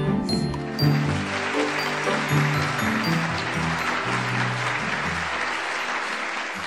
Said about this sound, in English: So, I heard a round of applause earlier.